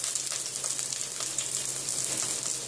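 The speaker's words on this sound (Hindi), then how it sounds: "प्याज फ्राई हो रहा है, प्याज इस तरह से फ्राई हो गया है।" Onions fry in a pan with a steady, close sizzle and crackle, constant and moderately loud with no talking.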